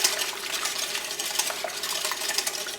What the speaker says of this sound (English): I'm just going to whisk this a little bit more.